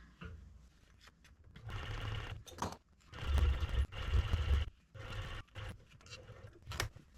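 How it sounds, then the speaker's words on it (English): A sewing machine stitches across the seam of a fur hunting muff, its close, steady mechanical whir running in several bursts of a second or so separated by brief pauses and soft handling noises. "I'll just sew all the way across."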